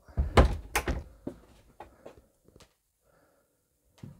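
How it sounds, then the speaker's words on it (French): A door inside a new camper van swings open with a couple of solid thunks and knocks near the start, followed by faint handling clicks and a short quiet gap, close by. "Donc j'ouvre la porte qui donne accès donc au lit central."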